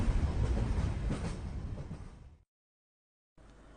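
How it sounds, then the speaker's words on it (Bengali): A cartoon train rumbles and rattles into a station, a steady mid-volume rolling clatter that fades, cuts to silence, then returns faintly. "ট্রেন স্টেশনে এসে থামল"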